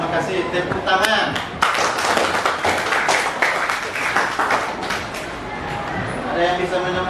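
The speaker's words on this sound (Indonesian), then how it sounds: "Tepuk tangan." A classroom of people claps in a burst of applause, irregular and fairly loud, lasting several seconds with some voices mixed in.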